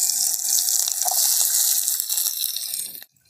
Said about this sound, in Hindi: तो अब हम डालते हैं इसमें प्याज